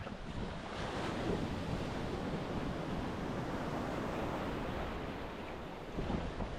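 Surf rolls in at Kata Beach, Phuket, a dense, steady roar of breaking waves mixed with buffeting wind against the microphone, swelling slightly near the end and heard without any voices.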